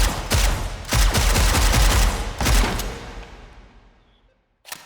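Simulated firearm in the H3VR virtual reality game emptying a magazine with cinematic sound effects: a dense, loud burst of rapid shots over about three seconds, decaying into a long reverberant tail, then one brief click near the end.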